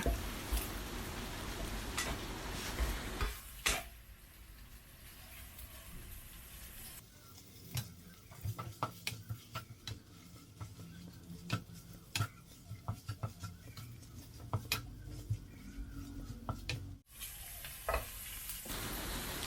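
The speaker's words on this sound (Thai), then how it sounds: "ผัดให้ตัวหมูสับของเราสุกเลยนะคะ" Minced pork stir-fries in a pan for khanom jeen nam ngiao: a steady, fairly quiet sizzle runs throughout, broken by frequent sharp ticks and scrapes of a utensil against the pan, with no talking.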